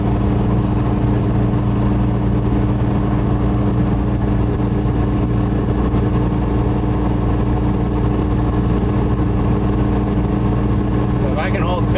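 Engine of an old truck cruising in fifth gear, a loud steady low drone with strong harmonic hum that continues evenly throughout, while someone talks over it.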